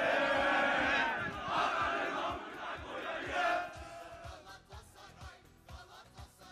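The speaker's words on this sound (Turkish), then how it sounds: "tam röportaj olacakken bir tezahürat başladı" Football fans chanting loudly in unison on a championship night in Florya, a dense crowd roar with rhythmic shouted beats, fairly close and continuous, easing slightly toward the end.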